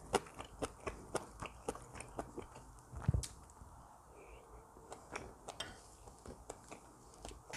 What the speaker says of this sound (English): let's try kimchi and pork